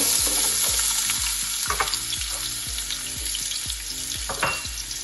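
Onions, chilies and thyme hit hot spiced oil in a pot and sizzle loudly up close, while a wooden spoon scrapes and knocks in a quick, repeated rhythm.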